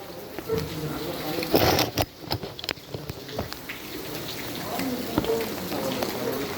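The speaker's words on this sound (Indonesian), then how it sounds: "Masuk Dek, masuk Dek hujan." Rain falls in a steady hiss with scattered drops hitting surfaces, while people call out and talk over it.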